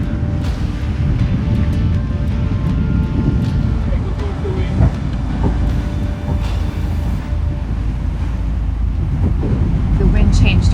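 Strong wind and waves surround a catamaran sailing upwind in about 19 knots of true wind. A constant loud roar of wind buffets the microphone over rushing water, with no letup.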